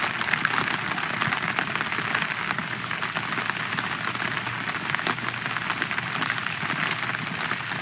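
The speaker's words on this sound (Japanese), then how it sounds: "多分雨がこのカメラに向かって降ってるんでオーブみたいに映ってますが、これはオーブではなく雨です。" Steady rain pouring down in a park surrounded by graves, a dense, even patter of drops hitting surfaces close by, continuous and fairly loud with no voices.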